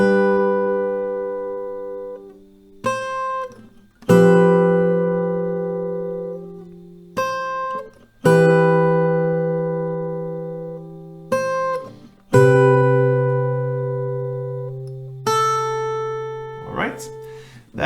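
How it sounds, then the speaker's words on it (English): An acoustic guitar plays the melody of a song slowly, with single plucked notes and short phrases ringing out and decaying, separated by brief pauses. "I'm gonna play that slow for you, so it sounds like this."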